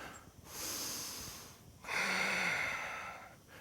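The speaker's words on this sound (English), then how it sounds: "Take a deep breath here." Two slow, deep breaths taken during a yoga pose, each a soft, close airy rush separated by quiet pauses, the second slightly stronger and longer.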